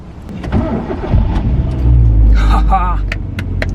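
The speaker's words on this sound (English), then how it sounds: "Let's see if my car starts firstly." A car engine cranks and catches about halfway through, then settles into a loud running rumble with a brief rev, while a voice talks over it.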